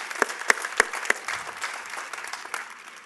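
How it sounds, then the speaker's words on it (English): Brief, moderately loud clapping rises from an audience at a college commencement ceremony, with a few sharp claps standing out over the general applause. "Can we give him another round of applause?"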